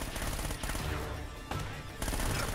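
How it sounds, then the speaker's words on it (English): Gunfire in a shootout in Uncharted: Drake's Fortune: loud, dense bursts of rapid automatic fire, broken by two brief pauses, with heavy low-end thumps throughout. "Quick little shootout scene."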